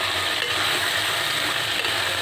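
Chopped onion is stirred and fried in a pan for egg pulusu, giving a steady close sizzle with light scraping from the stirring, without any talk.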